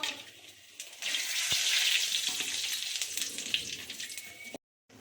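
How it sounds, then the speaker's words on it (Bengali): Bay leaf, cumin and garam masala hit hot oil for a Bengali green banana curry, letting out a loud, close, hissing sizzle that swells quickly, holds for a few seconds, then cuts off abruptly. "তেজপাতা, জিরে, গরম মশলা আমি ফোড়ন দিলাম"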